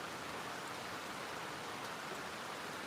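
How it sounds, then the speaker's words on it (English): Winter rain falls outside in an Oregon valley, a faint, even hiss of drops with no breaks or changes throughout. "very typical Oregon weather that you're hearing right now. It's raining outside, just dreary."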